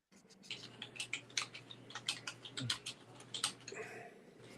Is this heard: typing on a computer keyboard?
yes